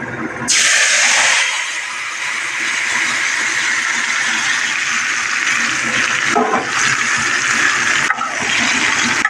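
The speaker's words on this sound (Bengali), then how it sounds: "এবার আমি দিয়ে দেবো মাছটা" Hand-marinated maurala fish hits a hot pan for chachchari, setting off a loud, steady sizzle that bursts in abruptly and holds with a couple of brief dips, with no voices over it.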